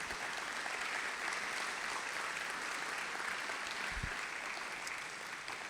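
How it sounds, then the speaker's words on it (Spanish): A congregation at a Christian Bible teaching session claps in an even, continuous wash for several seconds, soft and somewhat distant, with no voices heard over it. "Dales un aplauso"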